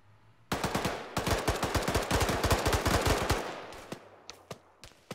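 Rapid automatic gunfire from the modded military shooter game Arma 3, a loud sustained burst of closely spaced shots lasting several seconds, then a few scattered single shots trailing off, with no talk over it.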